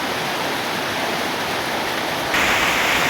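Heavy rain and strong wind in a mountain storm, a loud unbroken hiss that turns harsher and brighter near the end as the downpour intensifies.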